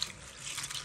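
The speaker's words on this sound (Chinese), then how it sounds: "把花椒清洗干净" Sichuan peppercorns being rubbed and rinsed by hand in a basin of water, a brief close sloshing and trickling wash, soft and steady with no voices.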